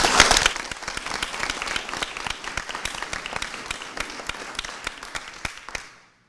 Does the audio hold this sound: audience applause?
yes